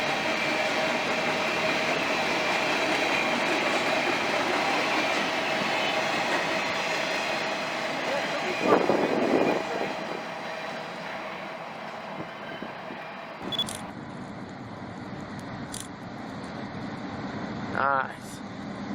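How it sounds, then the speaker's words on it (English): A work train rumbles past close by in a rail yard with steady rolling noise and faint clatter, a brief squeal near the end as it fades. "a work train?"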